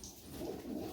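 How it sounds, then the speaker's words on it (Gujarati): Pigeons coo softly at a farm beside a cotton field, a faint, low, steady murmur with no talk. "કબૂતરાને બેહવાનું થઈ ગયું છે"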